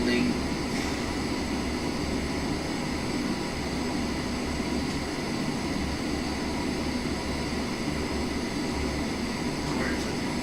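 A steady, loud airliner engine drone and cabin-like hum persists throughout while taxiing in the video game Microsoft Flight Simulator 2020, with little variation and faint background voice.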